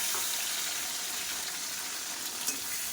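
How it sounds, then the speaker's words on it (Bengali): Pointed gourd (potol) frying in hot oil, a steady dense sizzle that stays close and even throughout with one small pop near the end, no voices present. "তরকারি বানানোর জন্য পটলগুলো আগে একটুখানি ভেজে নিই"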